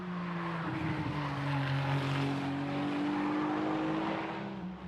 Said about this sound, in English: So on a mission here, just hugging the curb and accelerating right now.